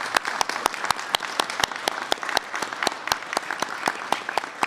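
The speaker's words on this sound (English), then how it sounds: "How about giving the kids a round of applause?" Applause for the kids at a school event with a state governor present, a fairly small group clapping in a fast, even patter, moderately close and holding steady throughout.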